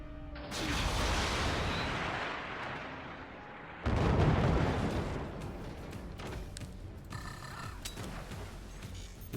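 Weapons firing in the strategy game Forts: a heavy booming blast with a long rumbling decay, then a second loud impact around the midpoint followed by clanking mechanical debris, no talk.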